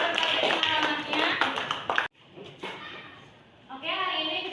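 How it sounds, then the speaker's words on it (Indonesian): A classroom of students claps hands in a burst of applause during an English lesson, with the clapping dense and close for about two seconds, then a pause before a teacher's voice comes in. "tepuk tangan"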